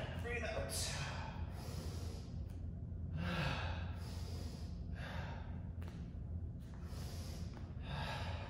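Heavy breaths drawn in and pushed out during a core strength workout, several broad breathy swells repeating at a steady pace over constant background noise, close and fairly loud.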